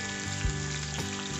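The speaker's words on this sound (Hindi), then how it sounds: "प्याज को अच्छे से भून लेंगे लाइट ब्राउन होने तक।" Chopped onions fry in a pan with curry leaves for a leftover-roti upma, a steady close hiss with a brief stirring scrape, over a faint background hum.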